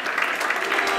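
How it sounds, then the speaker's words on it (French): An audience at the 2016 insurance trophies awards ceremony claps in a steady, even round of applause that fills the hall for about a second. "Bravo, nous pouvons applaudir."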